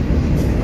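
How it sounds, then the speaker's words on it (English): Steady low rumble of a passing Norfolk Southern train near a casino in Randolph, a continuous heavy roar filling the short moment with no breaks. "Norfolk Southern train down by the Arcasee or casino down here."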